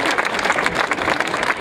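An audience claps at a live outdoor show in Přerov, a dense, steady burst of applause from a crowd heard close and continuous throughout.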